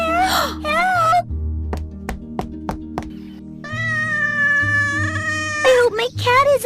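A cat meows several times in a cartoon fairy-tale scene, loud and near, with melodic wavering cries at the start and end, voices speaking around it and a series of sharp knocks in the middle.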